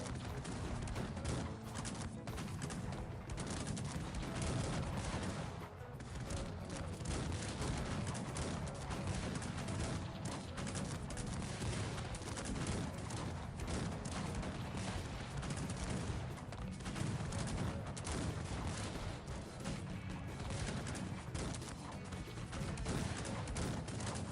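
Cannon fire and massed musket gunfire in the real-time strategy game Cossacks 3, a dense, continuous battle din of overlapping volleys and booms at steady loudness throughout.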